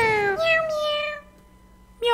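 A cat in the game Reigns: Her Majesty meows a few times in quick succession, drawn-out and close, then falls quiet before a last short meow at the end.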